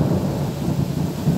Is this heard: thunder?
yes